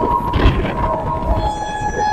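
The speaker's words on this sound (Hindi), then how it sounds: "तो चलिए भाई सामने से आ रही है न्यू दिल्ली वाराणसी वंदे भारत एक्सप्रेस।" The New Delhi–Varanasi Vande Bharat Express rushes past close by with a loud rumble and rattle, and a sustained horn tone rings out over the noise.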